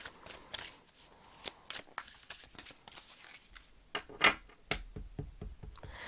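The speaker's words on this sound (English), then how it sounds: "Now let me shuffle a few more cards." Tarot cards are shuffled by hand in irregular bursts of riffling and snapping, close and crisp, with a brief louder clatter partway through and no talking.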